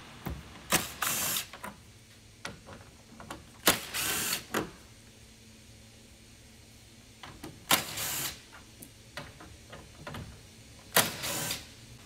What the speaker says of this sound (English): next we're going to remove 4 of these 10mm bolts in the front here